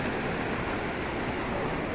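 Floodwater rushing through a village makes a steady, loud broadband roar, like surf or wind, that runs unbroken and without voices.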